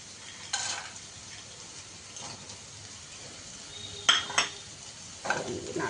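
Vegetables with peanuts stirred in a pan, giving quiet scraping and clinks of a utensil against the pan in a few separate bursts over a low frying hiss.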